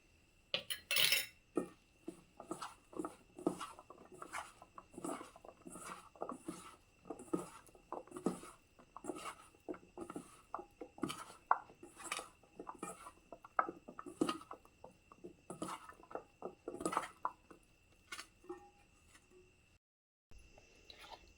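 Cut potato fingers are mixed in a bowl for crispy finger chips: a long run of quiet, irregular clinks, taps and scrapes against the bowl, with brief pauses near the end.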